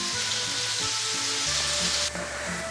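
Pineapple pieces cooking in a skillet with a loud, continuous close sizzle and spitting crackle, some low hum from the stove underneath.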